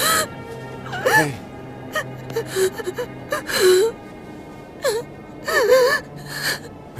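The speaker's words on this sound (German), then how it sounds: "Hören Sie auf zu weinen." Distressed person in a video game crying and sobbing, with repeated gasps, wails and whimpering moans in bursts over a low background hum.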